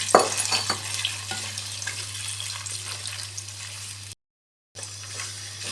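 Potatoes frying in ghee in a wok for aloo halwa give a steady broadband sizzle with occasional stirring scrapes, moderately loud and close, with a brief dropout near the end.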